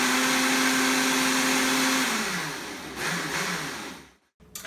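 A blender whirs loudly blending a kale and apple smoothie, its motor tone steady, then winding down and cutting out before a brief restart.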